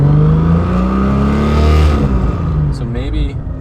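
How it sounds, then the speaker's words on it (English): A Barra-engined Mustang drivetrain runs on a lift with a loud pilot bearing, a steady near engine hum with a slight rise and fall in pitch, and a voice talking briefly near the end. "It does kind of sound like the pilot bearing's kind of loud."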